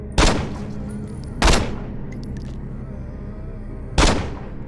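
Three loud video game gunshots from Saints Row 2 crack out with sharp attacks and quick decays. Two come close together, then a pause before the third.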